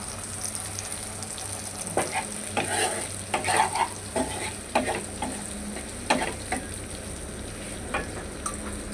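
Potatoes and flat beans fry in a pan with slit green chilies, a steady close sizzle broken by repeated scraping stir strokes, with no talk.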